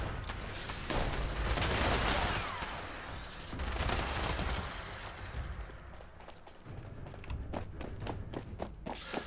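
Explosive minigun firing in Fallout 76, dense bursts of rapid gunfire and blasts alternating with quieter gaps, ending in a string of sharp separate shots, loud and close.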